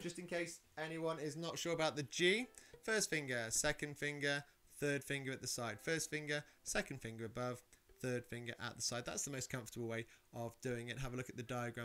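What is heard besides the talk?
No everyday noises stand out.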